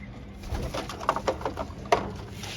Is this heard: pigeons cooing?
yes